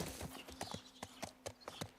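Horse hooves clip-clop in The Last of Us Part II video game, a steady walking rhythm of fairly faint, close hoof strikes with no other sound.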